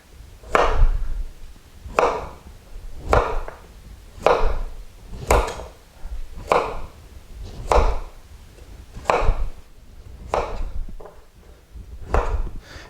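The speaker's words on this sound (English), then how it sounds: "You cut it on a diagonal, and then you take your carrot, flip it all the way over 100 degrees." A knife chops a carrot on a diagonal against a cutting board in a steady series of about a dozen crisp, close thuds, roughly one per second, with no talking.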